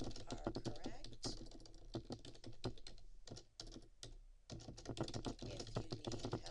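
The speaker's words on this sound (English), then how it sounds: "I have begun typing in an annotation, and I'm just going to finish typing a third sentence here." Steady typing on a computer keyboard as an annotation is written, a busy rapid run of close key clicks with a brief pause in the middle.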